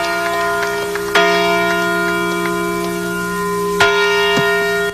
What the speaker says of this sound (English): rings the same bell that rang in 1810